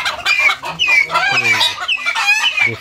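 Sebright chickens cluck and squawk loudly and continuously while being caught, with excited overlapping calls close by.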